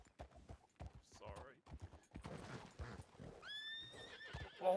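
A horse in a Red Dead roleplay video game gives a whinny near the end, after clip-clop hoofbeats, with someone talking over much of it.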